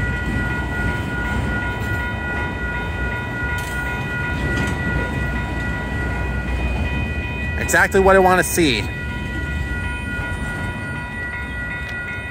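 Union Pacific 8133, an inbound manifest freight train, rolls slowly past the Lindsay Road crossing with a steady low rumble and clatter of cars, while someone speaks briefly partway through.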